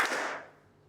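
A single hand clap from a group of students in a classroom, a sharp bright smack with a short decaying ring, heard alone.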